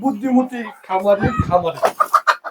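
Egg-laying hens cluck in short quick bursts near the end on a poultry farm, after a person speaks; the clucks come in a rapid rhythmic series.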